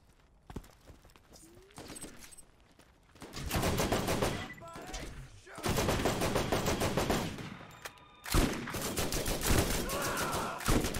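Shotgun blasts and other weapon fire in the Borderlands video game come in heavy, loud bursts. Quieter stretches separate several long, dense volleys of rapid shots.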